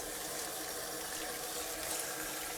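Cucumbers being rinsed under running tap water for cucumber kimchi: a steady, even hiss of water from the faucet, constant and fairly close, with no voices.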